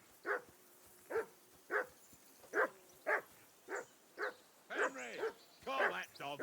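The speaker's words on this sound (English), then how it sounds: "call that dog to heel." A dog barks steadily in the medieval video game Kingdom Come, about a dozen evenly spaced barks, with a voice talking over the later ones.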